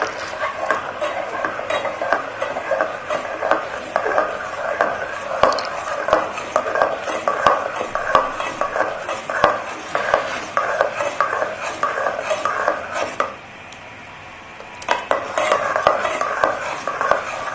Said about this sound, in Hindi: मैं इसमें ये डाल दूंगी कस्टर्ड, थोड़ा थोड़ा करके, तो चमचा चलाती जाऊंगी